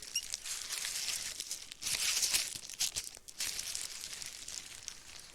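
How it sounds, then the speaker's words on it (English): Soft crinkling and rustling of a paper towel rubbed against small wet metal pellets, close and quiet, in uneven bursts with no talking. "I'm going to dry off our pellets a little bit with a paper towel."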